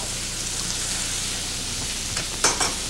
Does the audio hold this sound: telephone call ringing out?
no